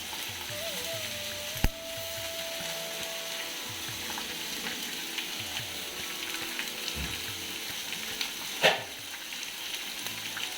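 Banana flower curry frying in a pan with ginger and curry leaves, a steady close sizzle running throughout with a couple of brief knocks and stirring sounds.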